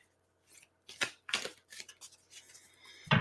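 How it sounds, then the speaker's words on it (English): Tarot cards are given a quick, light shuffle, producing several short papery riffles and slides in uneven bursts, close and crisp against a quiet background, with no talking. "Do a light shuffling here, just a quick light shuffling."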